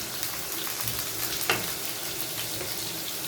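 Squid frying in a pan at home, a faint continuous sizzle with one short sharp clatter midway, heard alone without talk.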